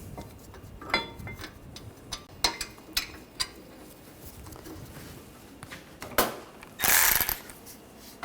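Bolts on a caliper bracket are run in by hand over the brake rotor of a 2013-2019 Ford Escape. Scattered metallic clicks and short ratchety rattles come up close, ending in a louder scrape burst.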